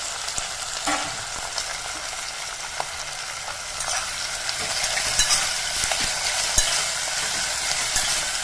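Pieces of citron sauté in hot oil for pachadi, with a continuous close crackling sizzle and occasional soft stirring knocks.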